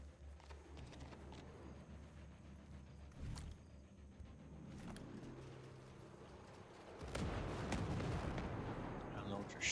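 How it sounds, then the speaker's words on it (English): Mortar fire in the Ghost Recon Breakpoint video game, distant booming impacts scattered over the span with a heavier, louder rumble building near the end, amid game background noise. "We got mortars coming!"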